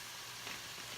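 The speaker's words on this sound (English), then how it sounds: "I'm already browning up my pound of ground beef" Around 1.5 pounds of ground beef browning in a pan for chili, giving a steady, close, moderately loud sizzle and fry with no voices over it.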